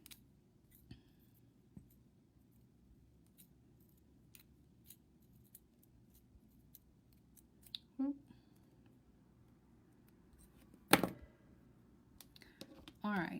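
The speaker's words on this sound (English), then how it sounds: "trim the tail off of that one" Cutters trim the tail off the wire on handmade silver wire-wrapped earrings, a few faint snips and clicks close by over a low background hum, with one sharper cut near the end.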